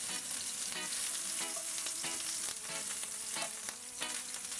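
Ginger frying in hot oil for Trini pepper shrimp, a continuous close bright sizzle with a few soft stirring scrapes at intervals throughout.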